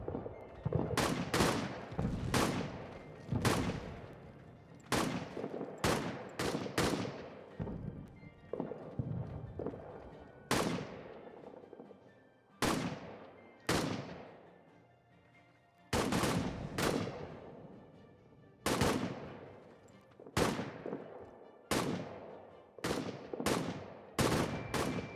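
Gunfire from rifles in the trench warfare game All Quiet in the Trenches: sharp, loud single shots crack out irregularly one after another, some close and some spaced apart, with no talk.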